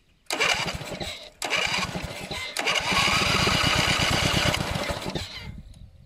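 A new lawn mower engine starts after a couple of short tries, catches, and keeps running with a loud, steady chugging roar up close before easing off at the end.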